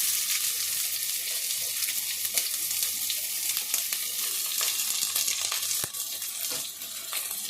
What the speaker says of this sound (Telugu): ఇలా వేసుకున్న ఉల్లిపాయల్ని మంచిగా గోల్డెన్ బ్రౌన్ కలర్ వచ్చేంత వరకు ఫ్రై చేసుకోవాలి.